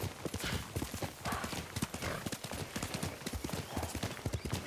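A horse gallops through the open-world samurai game Ghost of Tsushima, its hooves pounding out a fast, even clip-clop rhythm up close, with a whinny rising partway through.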